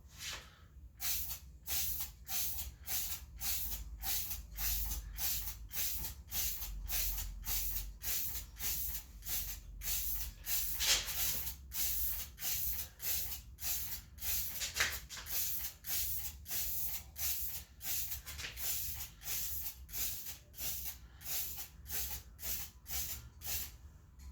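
Repeated bursts of Rust-Oleum spray paint hissing close by, short evenly spaced pulses with brief gaps, continuing steadily for a long stretch without speech.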